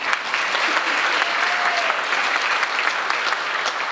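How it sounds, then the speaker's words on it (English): Audience at a high school senior awards ceremony breaking into loud, sustained applause, a thick, even roar of many hands clapping close by. "You can clap, it's okay."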